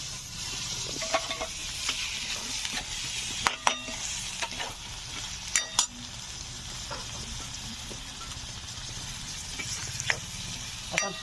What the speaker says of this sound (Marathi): आता मसाला भाजलाय मस्त टाकायचं ह्याच्यात पनीर